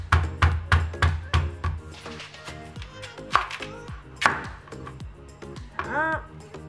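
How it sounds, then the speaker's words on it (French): A knife chops through firm sweet potato on a board, cutting strips for fries: a quick run of sharp taps at the start, then scattered single cuts and a little handling noise. A voice murmurs faintly underneath. "on va venir former des lamelles de patates douces pour former les frites"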